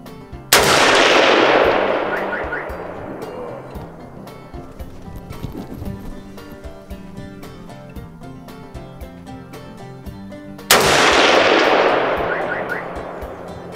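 A Sauer 303 rifle chambered in 7x64 fires two loud, close shots about ten seconds apart, each with a long rolling echo that fades slowly.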